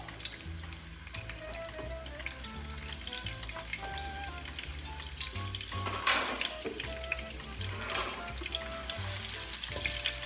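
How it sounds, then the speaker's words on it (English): Garlic frying in olive oil in a home kitchen pan while cooking garbanzo beans, a steady close sizzle running throughout, with a couple of brief louder crackling bursts and a background music track under it. "Olive oil, and I will add the garlic. Let that cook for a little while."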